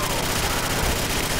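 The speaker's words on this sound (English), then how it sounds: "It's RPD. RPD, yeah, that thing's loud." An RPD machine gun rattles in rapid sustained bursts in a custom Call of Duty zombies map, loud, close and dense, with no pauses across the short stretch.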